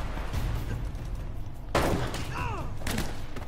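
A few sharp gunshots from the video game Uncharted, one louder crack in the middle followed by further bursts over a low background rumble, with faint game sounds in between.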